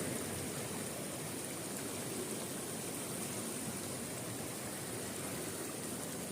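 Shallow creek water runs under a bridge in a steady, soft wash of rushing flow, unbroken and fairly faint throughout, with no voices.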